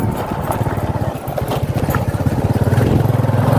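Honda XRM motorcycle ridden over a rough, broken road, its small engine chugging with a rapid pulsing beat, close and fairly loud, with bumps and rattles.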